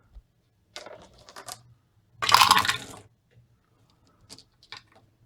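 Dice rattle and tumble in a short loud burst during a turn of a Reformation-era strategy board game, with faint scattered clicks before and after in an otherwise quiet room.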